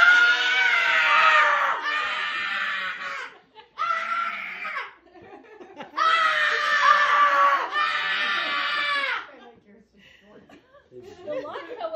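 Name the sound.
people imitating a screaming latke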